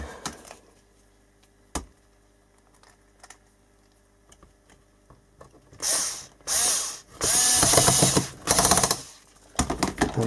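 Screws being driven back into the plastic case of a Commodore C2N Datasette for the Vic-20, heard as sparse clicks at first and then several loud bursts of close, ratcheting mechanical whirring.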